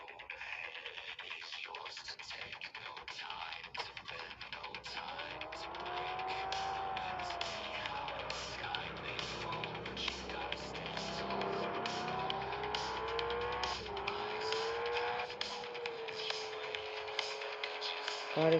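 Car engine revs rise and fall with squealing tires in the video game Mad Out, a vehicle taken on the streets of London, the drone building steadily louder over about eighteen seconds.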